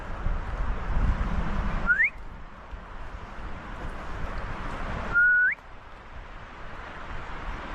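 Someone whistles in a dark woodland at night: two short rising whistles a few seconds apart, clear over a low rumbling background hiss.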